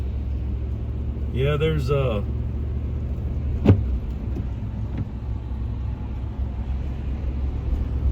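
A vehicle in 4-wheel drive pulls away on a slippery Wisconsin hunting trip, its low, constant engine and drivetrain rumble running throughout under a short burst of nearby speech and a couple of sharp clicks.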